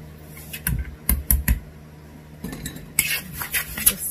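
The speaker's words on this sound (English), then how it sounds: "Let me get a spoon." A spoon clinks and rattles against dishes in a kitchen, in a few short bursts of sharp metallic taps and clatter separated by quiet pauses.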